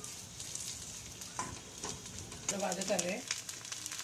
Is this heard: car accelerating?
no